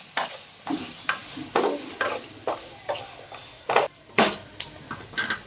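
Chopped raw mango cooks in a pan for a peanut chutney, a soft sizzle broken by rhythmic scraping stirs of a spatula roughly every half second, close and moderately quiet with no speech.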